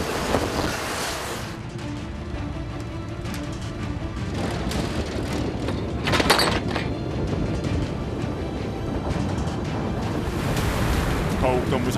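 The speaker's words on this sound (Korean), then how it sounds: "무섭게 몰아치는 파도." Rough sea roaring without pause as heavy waves crash and churn around a fishing boat, with strong wind buffeting close and loud throughout.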